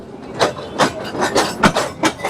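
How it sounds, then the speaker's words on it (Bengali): A Dhaka to Narayanganj commuter train runs through crowded surroundings. Rhythmic clacks of wheels over rail joints recur about every half second over a steady rolling rumble, close and fairly loud. "এইরকম ঘিঞ্জি পরিবেশে আমাদের ট্রেনটা যাচ্ছে আর কি"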